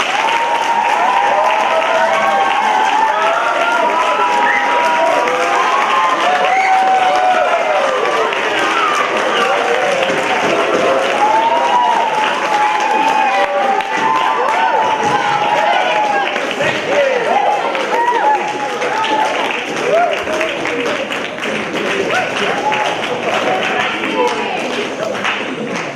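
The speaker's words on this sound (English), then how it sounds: "I'd like to have a round of applause, please, Mr. Dom Goodman" A school house debate audience applauds loudly and continuously, dense clapping filling the room without pause.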